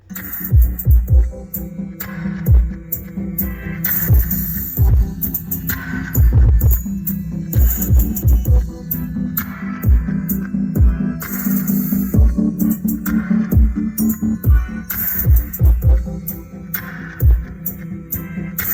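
Music booming from a Rockford Fosgate sound system with custom subwoofers inside a 2025 Ford Maverick, deep bass thumps pounding in a steady rhythm under the song, loud and close in the cab.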